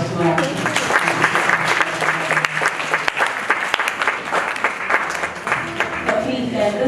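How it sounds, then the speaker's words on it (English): An audience at a midwives' climate seminar applauds steadily for about seven seconds, a dense, even wash of many hands clapping that stays loud throughout with no clear pauses. "Please let's give a hand of applause to our"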